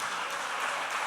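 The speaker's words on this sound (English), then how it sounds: "at least give him a round of applause" Brief burst of audience applause in a conference setting, a dense, even wash of many clapping hands, steady and moderately loud with no talk over it.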